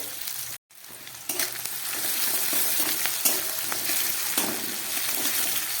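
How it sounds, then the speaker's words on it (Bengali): Onion frying in a pan, a steady broadband sizzle after a brief silent gap near the start, with occasional sharp clicks and scrapes of a utensil throughout, no talking. "পেঁয়াজটাকে একটু ভেজে নিতে হবে ভালো করে।"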